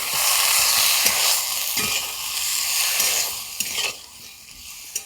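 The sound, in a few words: pouring tadka dal over egg tadka, sizzling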